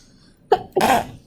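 A single close sneeze in a quiet office: a short sharp intake burst, then a louder, longer explosive release about a quarter second later.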